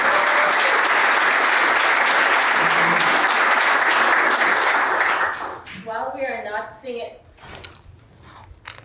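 A Unitarian Universalist congregation at a rites-of-passage service breaks into loud, sustained applause that fills the room for about five seconds. It then fades as a voice begins speaking over scattered remaining claps.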